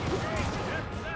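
In the video game Necromunda: Hired Gun, a short, dense burst of gunfire rattles under a speaking voice.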